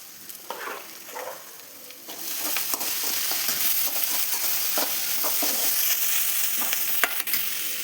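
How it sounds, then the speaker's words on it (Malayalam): Cucumber pulissery, a yogurt-based curry, heats in a pan while being stirred, giving a steady low sizzle and bubbling with repeated scraping strokes that grow louder after the first couple of seconds, with no voices. "നമുക്കിത് നന്നായി ഒന്ന് മിക്സാക്കി ഒന്ന് ചൂടായി വരുമ്പോഴത്തേക്ക് നമ്മുടെ പുളിശ്ശേരി റെഡിയാവും നമുക്കിതൊന്ന് ചൂടാക്കിയെടുക്കാം"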